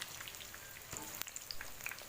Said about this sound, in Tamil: ஒரு 2 to 3 மினிட்ஸ் நம்ம லோ ஃப்ளேமில் வச்சு நல்லா குக் பண்ணிக்கலாம்.